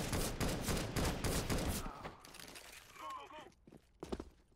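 Rapid gunfire bursts in a CS:GO match crackle loudly for about two seconds, then give way to quieter scattered shots and clinks, with someone talking over the later part.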